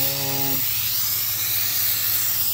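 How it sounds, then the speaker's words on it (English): Liquid Concepts activator hisses from a spray can onto printed film in a continuous close-up spray, after a brief electric hum fades in the first half second. "we'll spray it one more time on the bottom."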